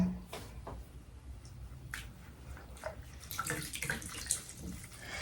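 Lukewarm water in a bowl is splashed and wrung from a cotton cloth used to wipe skin during a sun-tan removal routine, giving quiet, intermittent sloshes, drips and trickles close by with no talking.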